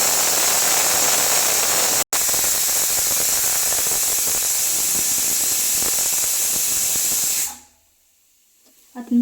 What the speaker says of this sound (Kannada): ವಿಷಲ್ ಕೂಗಿಸ್ಕೋಬೇಕಾಗುತ್ತೆ.